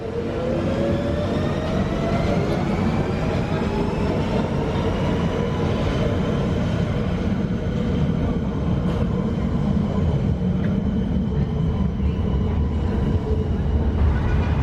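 A London Overground train at Shepherd's Bush station gives off a continuous loud rumble with a rising and falling motor whine throughout, close by.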